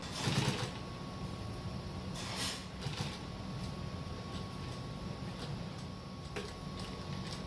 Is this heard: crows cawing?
no